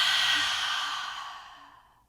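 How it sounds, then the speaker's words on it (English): A single long, deep exhale released through the mouth during a yoga breathing exercise, close and breathy, starting full and fading steadily to silence over about two seconds. "So inhale fully. Exhale completely."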